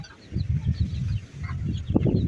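Ornamental chickens, mixed Cochins and Chinese silkies, cluck softly in a series of short, low calls close by, with a few quick bursts near the end.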